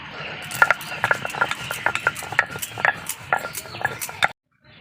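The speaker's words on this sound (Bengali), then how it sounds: "গোলমরিচটা আমি বেটে নিচ্ছি" Black peppercorns being ground by hand for chicken in a home kitchen, a rhythmic run of sharp clinks and scraping knocks at close range before stopping abruptly.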